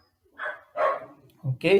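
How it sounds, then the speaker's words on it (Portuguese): Several German shepherd puppies yip and bark outdoors in short separate bursts, a few quick barks spaced across a moment, moderately close, with a brief spoken word among them. "os cachorros estão latindo aqui fora, não tenho como pará-los"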